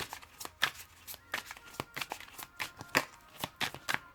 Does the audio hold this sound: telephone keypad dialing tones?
no